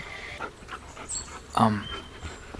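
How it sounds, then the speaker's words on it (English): A dog makes short pants and a brief yelp-like burst at moderate distance, set against low room noise and soft background voices. "Oh my God, your dog has 3 heads."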